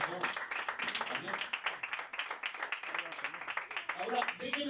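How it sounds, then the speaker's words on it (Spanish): A church congregation claps for the Lord during a sermon, fairly quiet scattered clapping and voices carrying on throughout. "Dale un aplauso al Señor."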